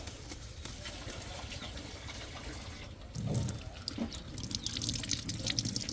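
Chili peppers are rinsed under running water, a near, continuous trickle and splash that swells louder midway and stays busy to the end.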